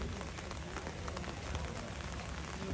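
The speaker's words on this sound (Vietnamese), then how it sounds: "Mưa cũng bắt đầu nặng hạt hơn rồi." Heavy rain pours steadily at an outdoor volleyball match, a dense, even hiss of drops striking surfaces around, continuous and fairly close, with no talk.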